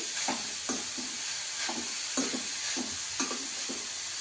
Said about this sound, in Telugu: సిమ్లో పెట్టి ఫ్రై చేసుకోవాలి దీన్ని